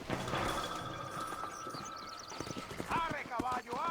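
Horse hooves clip-clop in the Red Dead Redemption video game, a quick run of hoofbeats mixed with a wagon scene, ending in a couple of horse whinnies, with game ambience underneath.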